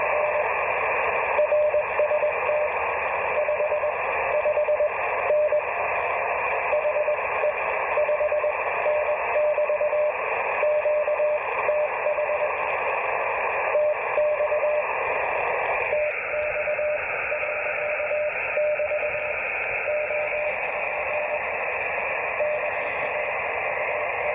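A low-power CW Morse ham radio signal from Texas, received in Australia: a steady stream of keyed dits and dahs in a continuous tone over a band of radio hiss, with the pitch shifting partway through.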